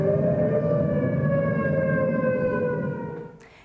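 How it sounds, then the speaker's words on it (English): A loud, steady wail of tornado warning sirens during violent storms drones on, holding its pitch before fading toward the end. "You can hear those warning sirens blaring"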